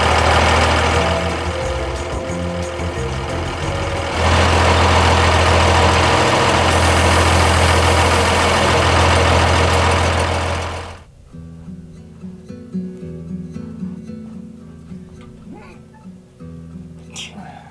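An idling Unimog truck engine with its air compressor running, overlanding in the Oman desert: a loud, steady mechanical drone that steps up louder partway through, then drops abruptly to a quieter, uneven rumble with small irregular bursts.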